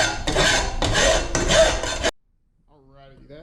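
A small hand file rasps against a cut metal cold air intake pipe for a K1500 5.3 swap, three close, loud strokes in quick rhythm, then silence before a voice starts talking.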